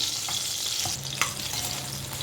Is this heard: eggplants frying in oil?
yes